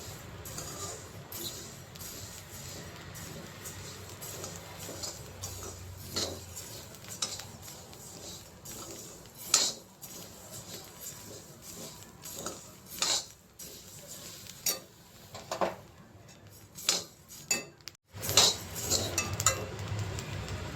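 Coriander seeds dry-roasting in a pan for sambar powder, stirred with a spoon, giving repeated metallic scrapes and clinks against the pan at an irregular pace, close and fairly quiet.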